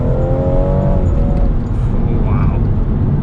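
A BMW M240i's engine pulling hard as it accelerates through the gears: a loud, steady, close drone with the pitch rising, then a gear change and a fresh climb, heard over constant road and cabin noise.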